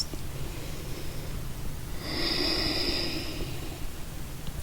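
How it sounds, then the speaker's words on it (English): Slow breathing during a hatha yoga session, held in child's pose: a steady airy breath under a constant room hiss, with a fuller breath near the middle lasting about a second, close and quiet, no talking. "2 more breaths"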